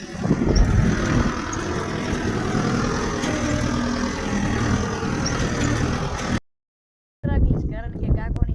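A tractor engine idles on a farm at castor sowing time, a steady, close rumble that runs on and on before cutting off abruptly; after a brief silence a voice speaks.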